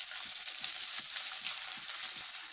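Onions and fennel seeds fry in oil for a prawn curry, giving a steady, close sizzle with a bright hiss and faint, regular crackles throughout, with no voices.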